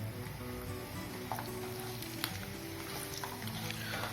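Mustard seeds, peanuts and urad dal sautéing in hot oil in a pan for South Indian seasoned rice, a soft continuous sizzle with faint scattered crackles and pops, close and quiet, no voices.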